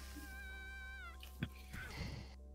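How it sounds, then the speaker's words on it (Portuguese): A pet cat meows close to the microphone with a long, wavering drawn-out call, followed by a brief bump and some quieter shuffling against a steady background hum. "Desculpem, foi a minha gata."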